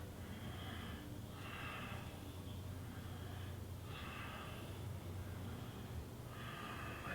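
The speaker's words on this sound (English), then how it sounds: "Breathe in and out." Steady qigong breathing in and out, with several broad airy inhale-exhale swells recurring every couple of seconds over a constant low hum, close and fairly soft, with no talking.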